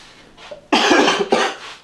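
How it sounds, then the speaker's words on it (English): Two short, loud, deliberate coughs, the first after a brief faint breath, sounding forced rather than natural. "You hear that fake ass cough?"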